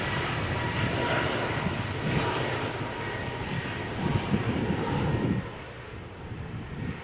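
A TUI airliner rolls for takeoff on the Malaga Airport runway on a stormy morning, its broad engine roar steady and fairly distant before easing off toward the end.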